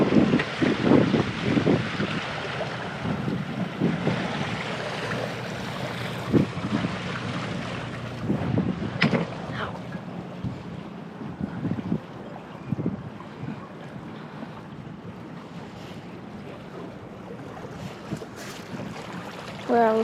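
A large sailboat motors out of a marina toward a river current, its engine a low rumble under heavy buffeting wind noise on the microphone and splashing water, with no one talking.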